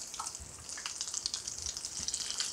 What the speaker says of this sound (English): I'm gonna go ahead and finish frying these